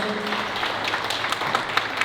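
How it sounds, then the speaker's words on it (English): An audience at a Kwanzaa celebration applauds with a steady patter of many hands clapping at moderate volume, sharpening into a few louder claps near the end. "So can we clap our hands for Miss Jamie Bland?"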